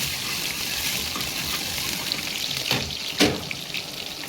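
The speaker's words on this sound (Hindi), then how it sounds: "गार्लिक को थोड़ा सा भून लेंगे।" Garlic frying in a pan with whole spices for a hotel-style chicken masala, a steady close sizzle and crackle with a couple of brief louder spits near the end.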